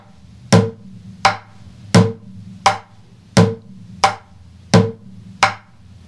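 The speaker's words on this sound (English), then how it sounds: "If I have the bass tone with my left hand, right hand rim shots" Steady bucket drumming alternating low hollow left-hand bass tones with sharper right-hand rim shots, eight strikes in an even, moderate rhythm, close and clear.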